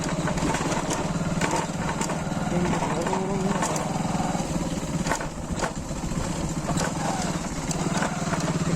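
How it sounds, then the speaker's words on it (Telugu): A motorcycle speeds along a badly broken road, its engine holding a steady, close drone throughout with rattles and bumps over the rough surface. "మనం చాలా స్పీడ్గా వేగంగా వెళ్తున్నాం మన బండి పైన"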